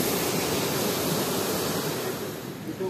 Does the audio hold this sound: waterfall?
yes